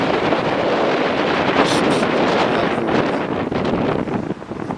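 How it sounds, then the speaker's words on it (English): Cold north wind blowing hard outdoors, a loud continuous rush buffeting the microphone, alone with no voices. "The wind is blowing from the north and it is icy cold."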